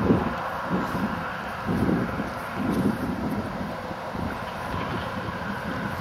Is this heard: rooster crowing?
no